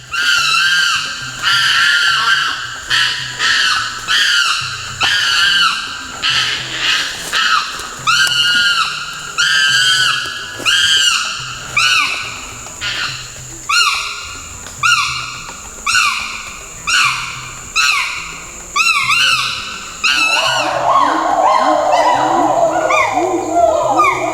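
Wild chimpanzees screaming and hooting at close range, a baby among them, in rapid loud overlapping bursts that pulse rhythmically before swelling into a dense continuous shrieking chorus.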